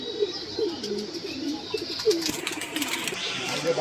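Pigeons released outside a Bangladeshi pigeon fancier's home coo softly and intermittently, a few low calls scattered under steady background noise and nearby talk.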